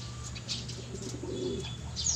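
A checkered pigeon hen in a home loft, with soft low cooing and a faint flutter of wings over a steady background hum, no talking.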